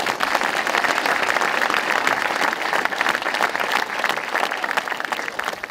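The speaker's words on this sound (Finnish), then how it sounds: "Siitä varmaan vielä kaikille aplodit yhden kerran." Large crowd applauding at an outdoor public celebration on the town square in Kouvola, Finland, a dense, steady roar of many hands clapping that stays loud and continuous throughout.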